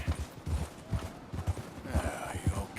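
Horse hooves clip-clop in Red Dead Redemption 2, a close, even rhythm of paired thuds that repeats steadily throughout.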